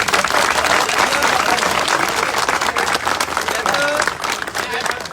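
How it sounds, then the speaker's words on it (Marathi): An audience at a public political event in Nashik claps loudly and continuously, dense applause filling the whole stretch with some crowd voices mixed in. "या दोघींसाठी प्रचंड टाळ्यांचा गजर आपण करूया"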